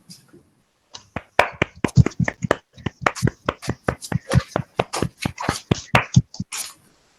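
A few people in an online literary session with a writer clap their hands, a string of about twenty sharp, close claps in an uneven rhythm, with a brief faint voice just before they start.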